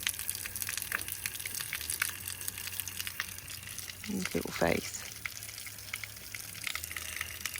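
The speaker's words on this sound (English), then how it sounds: "I'll just let the water run over it for a while, just to soften all of these areas" Running water streams steadily over sarcoids on a horse's leg to soften them, a continuous splashing hiss with a brief louder gush midway and a short spoken phrase nearby.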